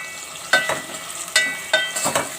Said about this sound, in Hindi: इसको डाल के अच्छी तरीके से मिक्स करेंगे